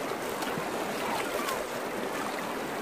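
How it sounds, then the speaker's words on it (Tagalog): Strong river water in a rural province rushes steadily beside rice fields, a dense continuous wash with no pauses, moderately loud and close. "Ganito kalakas ang tubig sa amin."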